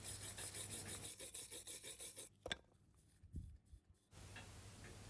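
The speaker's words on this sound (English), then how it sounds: "I use a metal scraper to remove the big bits, and then go over with my wire brush" Wire brush scrubbing rust from a steel cylinder liner from a Norton Nemesis V8 engine, a rhythmic, raspy back-and-forth scraping in quick strokes, then a pause with a few knocks before the scrubbing resumes as a steadier rasp.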